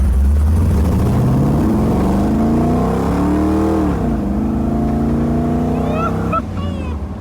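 A car accelerating onto a highway, its engine loud and close, rising steadily in pitch through the gears with a brief dip near the middle, heard without talk.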